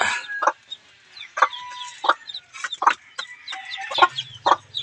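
Chicks being fed on a tarpaulin spread on a floor, close, repeated short chirps and clucks in quick overlapping bursts with brief quiet gaps between them, and no talking.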